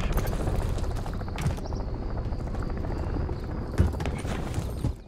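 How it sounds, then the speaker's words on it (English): Attack helicopter in the Modern Warfare 3 campaign, a continuous rotor thrum and whine holding steady throughout, with occasional sharp impacts breaking through the mix. "Do I have to take down that chopper to progress?"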